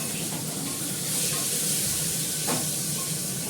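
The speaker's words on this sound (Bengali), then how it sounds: "আলুটাকে ভালো করে লাল করে ভেজে মাংসটা দিয়ে দেবো।" Potatoes frying in oil, a continuous loud hissing sizzle that holds steady throughout, with one brief sharper crackle and no voices.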